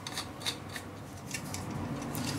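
A microscope's ocular lens holder being screwed onto the optical tube gives soft, close scraping and grinding twists with faint ticks over a low background hum, about two and a half seconds without talk.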